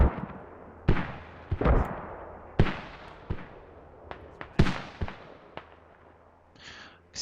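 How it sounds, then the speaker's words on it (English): Mortar shells burst in a military video game match, a series of sharp, echoing explosions arriving irregularly about once a second, some near and loud, others fainter and distant. "With all these mortar shells coming out."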